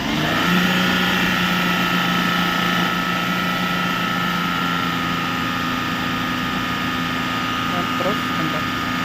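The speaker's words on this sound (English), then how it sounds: "Engine RPM need to be increased 2000 for 15 seconds." A car engine is held at a raised 2000 RPM during an alternator test with a battery tester, giving a steady, even hum with no change in pitch.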